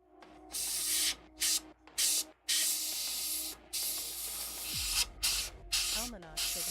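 Airbrush spraying paint onto a Takom Late Tiger 1 tank model, repeated bursts of close hissing spray with short gaps, then a longer continuous spray under faint humming.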